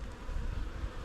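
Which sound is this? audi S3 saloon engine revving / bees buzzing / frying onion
bees buzzing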